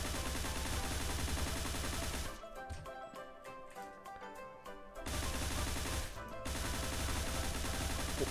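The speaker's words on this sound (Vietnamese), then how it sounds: "mình thấy nó khẩu này bắn khỏe đấy" Rapid automatic fire from a P90 submachine gun in the zombie mode of the shooter game Truy Kích, dense continuous bursts with a short pause midway and a brief break near the end, loud and close with no talking.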